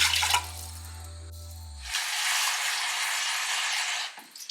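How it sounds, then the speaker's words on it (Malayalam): Water pours steadily into a pot for cooking biryani for a couple of seconds, a broad rushing splash after a brief clatter, then stops. "ഞാൻ 6 കപ്പ് വെള്ളം ഒഴിക്കാൻ പോകും"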